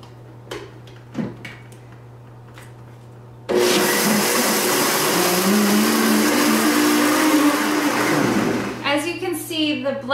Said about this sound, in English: we're going to put the lid on nice and tight and turn this on high.